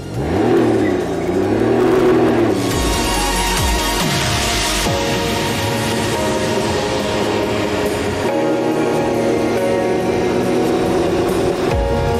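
A Can-Am Ryker 900 three-wheeler pulls away, its engine note rising and sweeping in pitch as it accelerates, loud and close, then settling into a steady droning run with wind and road noise.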